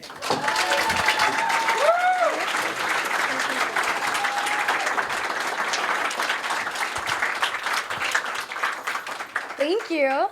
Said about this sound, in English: Ladies and gentlemen, give a big round of applause for Miss Lindsey Renee.